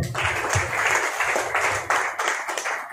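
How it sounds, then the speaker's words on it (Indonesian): Applause breaks out from a crowd at an outdoor political rally of former village heads in Central Java. It sounds close and busy, with a low rumble beneath the clapping. "Tepuk tangan nih."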